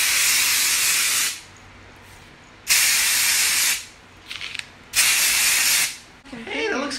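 Three long, loud hissing bursts of aerosol spray go onto hair, separated by short pauses with faint clicks between them.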